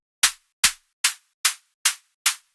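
Six crisp, noisy synthesized hi-hat hits made from white noise on one oscillator, without effects, in a steady even rhythm, each a bright hiss that decays quickly, with silence between them and no other sound.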